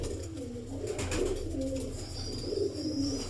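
Plain-eyed breeder racing pigeons coo in a loft, several low, rolling, throaty calls repeating through the stretch at moderate distance over steady background noise, with no one talking.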